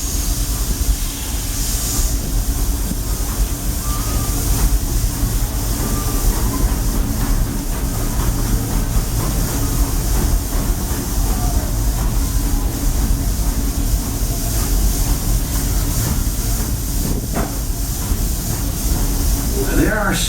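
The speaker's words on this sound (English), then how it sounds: "There are some who say that this steam train is a little old-fashioned, but for me, it's the only way to travel." The Walt Disney World Railroad steam train rolls along in a loud, continuous rumble with rhythmic clatter and hiss from the cars, while voices talk over it throughout.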